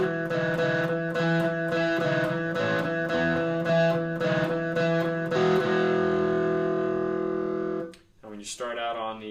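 A guitar plays the opening line of a song slowly, with sustained, evenly picked chords ringing close and steady for several seconds, then a short break before brief talk begins.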